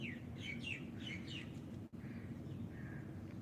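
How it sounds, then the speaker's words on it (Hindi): Birds sing sweetly in the distance during a morning yoga session, with a few quick bright chirping phrases over a steady low background hum and no talk. "पक्षियों की मधुर आवाज सुने।"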